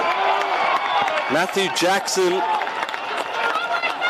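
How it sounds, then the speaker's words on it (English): Stone Cats football crowd roars steadily through a match in wet conditions, a broad wash of cheering from the stands sitting beneath a commentator's voice for the whole stretch. "And the Stone Cats crowd quite audible now."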